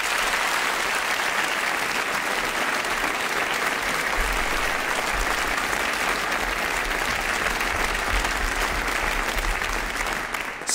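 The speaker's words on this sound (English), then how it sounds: "let's give a round of applause as they collect those trophies to all of our finalists" A large audience applauds the young choristers finalists as they collect trophies at a BBC Radio 2 competition, loud continuous clapping throughout with a single brief spoken word at the start.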